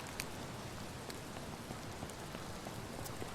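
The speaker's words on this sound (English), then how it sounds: "Some rainfall." Rain falling in the zombie survival game Vein gives a steady, faint hiss of droplets on surfaces with occasional individual drop ticks, continuous and without talking.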